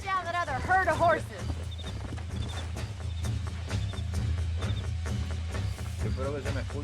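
Horse hooves clip-clop in Red Dead Redemption gameplay on PS3 while tracking a herd of horses, a steady rhythmic trot under game music and spoken commentary.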